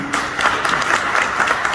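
Audience at a thank-you gala dinner applauds an absent volunteer, a dense, steady wash of clapping that stays fairly loud and even for its short length.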